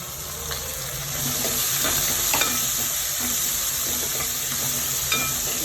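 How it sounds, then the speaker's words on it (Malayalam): Sliced onions sizzle steadily in a hot frying pan for a semiya and sago upma, with a continuous bright hiss and occasional soft stirring taps and clinks throughout. "സവാള ഇട്ട് കൊടുക്കാം"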